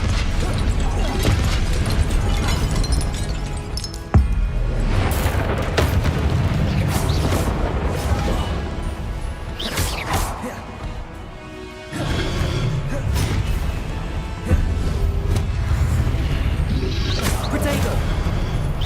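Spell effects in Hogwarts Legacy, fire bursts and disarming casts, come as booming whooshes, pops and crashes in a busy, continuous stream of combat noise with a voice speaking over it.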